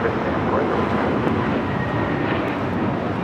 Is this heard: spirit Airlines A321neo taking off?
yes